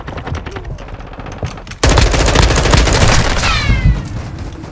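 Video game machine gun fire: a lighter stutter of shots at first, then a sudden, loud, sustained rapid burst roaring close by for the rest of the clip, with no voices.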